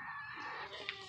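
Soft, close clucking and chattering from a pet chicken, faint and continuous with a brief higher squawk near the end, and no talking.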